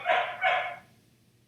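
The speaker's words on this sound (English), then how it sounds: "Sorry, that's my dog." A pet dog barks twice in quick succession indoors, two close, clear woofs followed by quiet room tone and a small click at the end.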